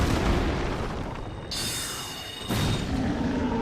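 Soul Spear sorcery in Dark Souls, two bright shimmering magical bursts about a second apart over a dense rumbling battle background, each bursting in sharply with a ringing tonal sheen.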